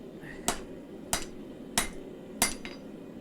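A hammer strikes a bolt on an anvil while forging it square: four sharp, ringing metallic blows at an even pace of about one every two-thirds of a second, each clear and fairly loud over a low workshop hum.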